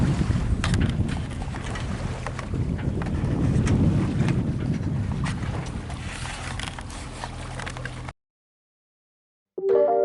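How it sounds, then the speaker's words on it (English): A sailing yacht motors under engine power on a windless day near Tahanea atoll, giving a steady low engine drone with water wash. It cuts to silence near the end before a short burst of sound. "We're just motoring around to Tahanea now."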